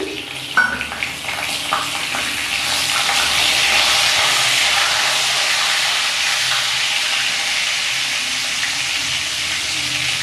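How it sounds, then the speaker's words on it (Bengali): Long potato strips fry in oil with a pinch of salt over a low flame, a steady close sizzle with a brief stir at the start and a constant bubbling hiss throughout. "লো ফ্লেমে আলুগুলো ভেজে নেব"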